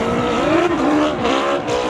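Motorcycle engine revving hard as the machine struggles up a steep slope at a hill-climb event, a loud, continuous, wavering roar with rising and falling pitch, close by.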